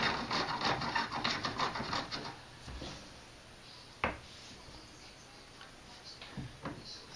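A reloading die for 460 Weatherby Magnum being threaded into a reloading press: a quick series of close, faint metallic ticks and scraping turns, then quiet with a couple of isolated clicks.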